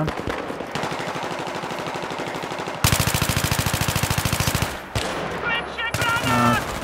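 Rapid automatic gunfire from a Battlefield 3 multiplayer match on the Mount Damavand Peak map, with an enemy sniper firing: dense bursts, a louder sustained volley in the middle, then scattered shots under faint game noise.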